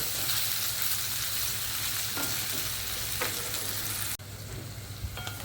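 Peas and potato curry frying in a pan, a steady loud sizzle throughout with a few faint stirring clinks, briefly dipping near the end before continuing.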